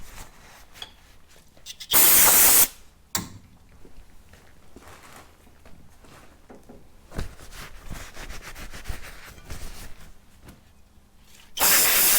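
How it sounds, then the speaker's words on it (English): Two sharp bursts of hissing brake cleaner spray, about a second each, near the start and end, on a Honda/Acura B-series ignition distributor, with clattering tool and handling noises between them. "Spray down some brake cleaner, get all the grease out, get it nice and clean."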